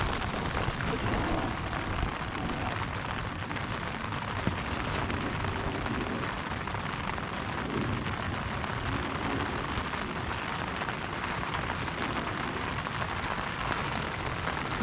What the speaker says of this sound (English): kind of enjoying the rain we're getting right now